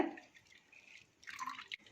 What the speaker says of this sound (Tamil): இப்போ இந்த ஊற வச்ச தண்ணியை நம்ம வடிச்சுக்கலாம்.